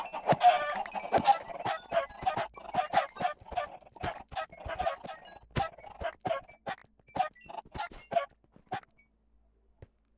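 Minecraft chickens cluck and squawk in a busy overlapping chorus, loud and close at first, then thinning out and fading to a few scattered calls.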